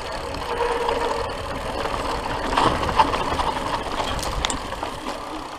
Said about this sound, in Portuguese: Ó, o trator que desce traçado.